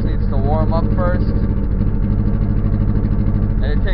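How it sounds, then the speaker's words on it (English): Car engine idling roughly after a quick throttle blip, nearly stalling, a low steady rumble running throughout under someone talking. "If I give it a quick throttle, it wants to die."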